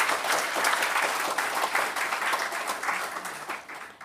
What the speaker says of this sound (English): Let us give them a great applause.